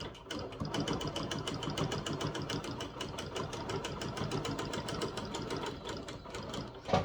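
Sewing machine stitching a quilt design marked with pounce powder, a fast even run of close mechanical needle clatter throughout, with a brief stop at the end.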